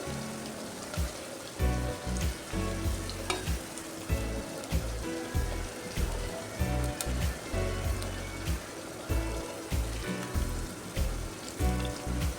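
Ingredients for an eggplant kadayal are slowly sautéed in a clay pot, a soft continuous sizzle broken by rhythmic scraping and stirring thumps.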